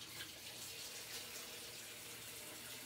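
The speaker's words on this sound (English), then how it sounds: "I'm gonna first wash my onion off real good." Steady running tap water splashing as an onion is rinsed under it, a continuous close wash with no talk.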